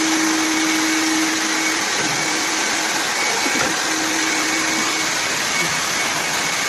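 A vacuum cleaner runs loud and close with an unbroken steady whine from start to finish, and a faint voice is briefly audible beneath it.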